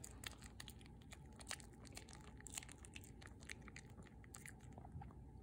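A dog chews a piece of fish with steady, close, wet crunching and biting sounds that continue without pause and with no talk.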